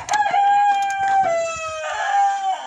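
A blue-coloured rooster crows loudly and close by in a single drawn-out cock-a-doodle-doo, with a little clucking at the start, outdoors in a yard among free-ranging Tsarskoye Selo chickens.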